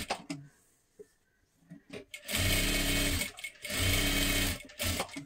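A sewing machine stitching a girl's blouse, with a few short taps and then two sustained loud runs of fast whirring stitches separated by a brief pause.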